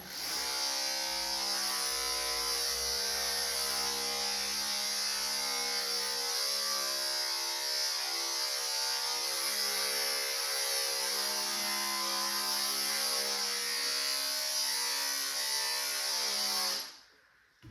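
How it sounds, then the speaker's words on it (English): Electric dog clippers fitted with a 7F blade buzz steadily and continuously while trimming a working cocker spaniel's tail, a close, even whine that holds unbroken before cutting off abruptly at the end. "I use my 7F blade and I trim to where it sort of would be docked"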